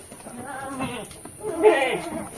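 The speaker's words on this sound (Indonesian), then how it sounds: "Dipastikan kambingnya sehat bolo untuk siapan kurbanan bolo iki ya" A two-year-old male goat in a pen gives a couple of close, wavering bleats, with someone talking around and over them.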